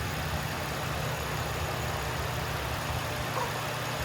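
A 2004 Nissan Maxima's 3.5L engine runs at a steady, quiet idle, a low continuous hum with no voices.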